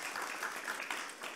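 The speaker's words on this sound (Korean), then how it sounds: "박수하겠습니다" A church congregation claps during a Sunday morning worship service, giving a brief, dense, even patter of applause that sounds faint and somewhat distant.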